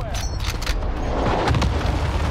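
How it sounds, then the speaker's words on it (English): Heavy booming blasts from a precision airstrike in the battle-royale game Warzone, a dense, continuous rumble of explosions throughout with some voice activity mixed in. "Busters from Allied precision airstrike incoming."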